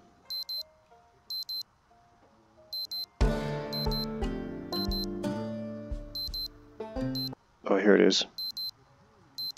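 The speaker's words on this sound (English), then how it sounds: "Oh yeah, my alarm." In the Project Zomboid video game, an alarm clock beeps in repeated short electronic bursts, with game music and a brief voice partway through and the beeping continuing at the end.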